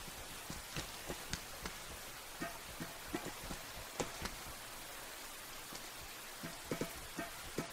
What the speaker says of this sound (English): Getting some like total ASMR from these raindrops right now.